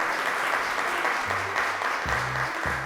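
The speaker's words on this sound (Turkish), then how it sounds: "Arkadaşlarımızı alkışlayalım." Studio audience on a religious-knowledge quiz show applauds in a steady, even burst throughout, with faint low tones sounding beneath the clapping.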